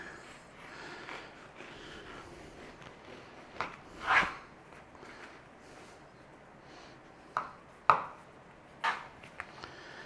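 A knife chops down through a thick French bread loaf in a few sharp, separate strokes, with quiet handling noise between the cuts.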